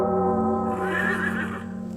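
A horse named Awesome Gal gives a loud, close whinny that rises and then trails off over about two seconds, standing alone with no talking.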